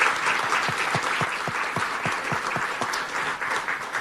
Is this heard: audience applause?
yes